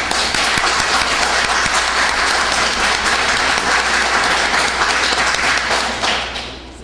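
A crowd of political party supporters at a rally in New York bursts into sustained, loud applause, dense clapping filling the whole stretch before tapering off at the end.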